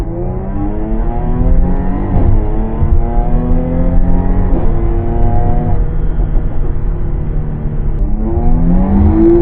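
A tuned Jaguar F-Type V6 with a JAG Madness Stage 1 throttle tune, rated at 420 horsepower, accelerates hard, its loud, close engine note rising steadily through the gears with no talk over it.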